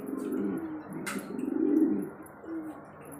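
A loft pigeon coos close by in low, throaty, rolling calls that swell and fade over a few seconds, with a brief sharp rustle partway through.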